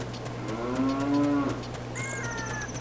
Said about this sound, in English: Yeah, I certainly hear a cow.